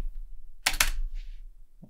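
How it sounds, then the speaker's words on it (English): A single quiet keystroke on the O key of a computer keyboard, a brief double click of press and release, in an otherwise near-silent room. "How to press O on the keyboard tutorial."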